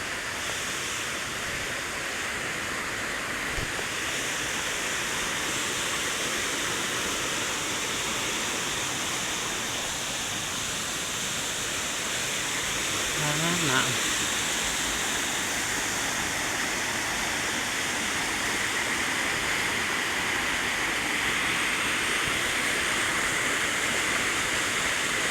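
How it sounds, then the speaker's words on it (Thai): Steady broadband rush of water pouring down at Tad Kaeng Yui waterfall near Vang Vieng, a constant roar throughout with a faint voice briefly heard partway. "น้ำไหลลงมา"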